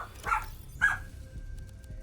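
A pet dog gives two short barks or yips close by, the second ending in a thin, drawn-out whine, with quiet room noise in between.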